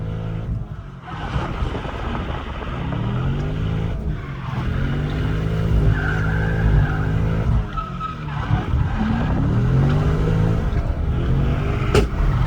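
Drift cars tear through a run at the Driftweek 2023 finale, tires skidding and squealing continuously over loud, revving engines that rise and fall across the clip.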